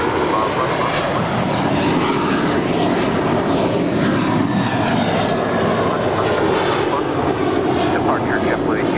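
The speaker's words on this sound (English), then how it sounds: "Departure JetBlue 1802." A JetBlue airliner departing Los Angeles airport roars loudly and steadily for the whole stretch, a broad sustained jet engine rumble with no pauses.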